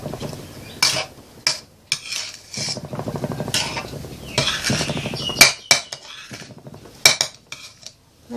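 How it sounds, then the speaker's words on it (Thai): A spatula stirs and scrapes sweet mung bean filling in a pan, giving irregular metallic clanks and knocks against the pan with short scraping passes and quiet gaps between. "จะผัดไปเรื่อยๆนะคะ"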